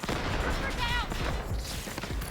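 Rapid bursts of submachine gun fire crackle and pop in quick succession in the video game Delta Force, with voices talking underneath the shooting.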